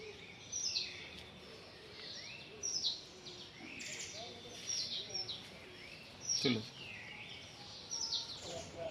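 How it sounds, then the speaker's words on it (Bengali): Several birds chirp and tweet in short bursts scattered through the scene in Darjeeling's hills, bright calls at moderate distance over a quiet outdoor background. "চারিদিকে পাখির কিচিরমিচির শব্দ"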